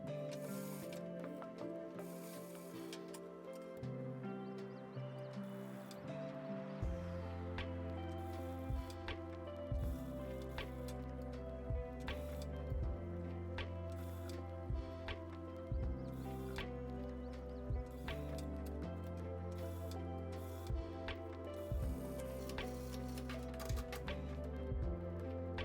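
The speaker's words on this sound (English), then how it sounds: "Then sew the edges of the pocket together with the lining." Sewing machine stitching a bag's pocket edges to the lining, a loud steady mechanical whirr with a rapid needle rhythm running continuously with brief pauses and restarts.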